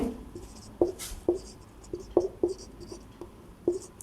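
Pen strokes scratch across paper as a maths solution is written out by hand, a series of short, close scribbles and taps spaced irregularly, with no talking.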